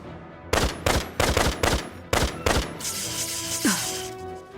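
Rapid bursts of gunfire from the Valkyria Revolution video game, a quick string of loud, sharp shots in two clusters, then a ringing tail with a descending mechanical whine fading away.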